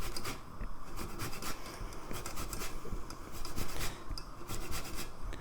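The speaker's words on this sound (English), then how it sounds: "So I'm going to use my zester. I'm going to place it on top of the saucepan, and then I'm just going to grate this." A zester grates lemon peel over a saucepan in a series of rapid rasping strokes. The scratchy bursts repeat roughly every half second, close and fairly loud, with no talk.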